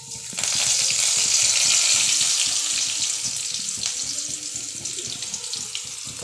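Garlic hits hot oil with mustard seeds in a kadhai, bursting into a loud, close sizzle that settles into a steady, slightly softer crackle with no talking.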